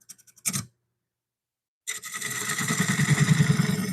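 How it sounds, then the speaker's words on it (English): A small spindle gouge cuts the edge of an olive wood bowl spinning on a lathe: a few faint taps and a short scrape, a pause of silence, then a sustained rough, rhythmic rasping cut that grows steadily louder. "I think to start with, I might use my little spindle gouge here, just on the edge"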